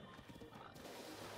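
A horse from Zelda: Breath of the Wild gives a short, fairly close whinny, its wavering call standing alone over a steady game background that brightens partway through.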